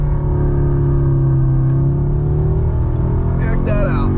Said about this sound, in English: I learned you can brake boost this thing from the freaking factory.